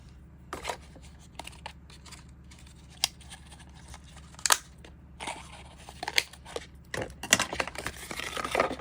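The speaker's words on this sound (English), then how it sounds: "I'm going to use the scissors to open it." Scissors snip and crunch through cardboard and packing to open an Archer and Olive subscription box, a close series of irregular cuts, rustles and taps with quieter gaps between.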